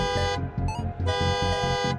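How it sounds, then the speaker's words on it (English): A car alarm in the Midnight Motorist minigame of a FNAF game loops a pulsing electronic tone in steady, rapid bursts, loud and unbroken, with no music or talk around it. "The music in the minigame then cuts out and you start hearing a car alarm."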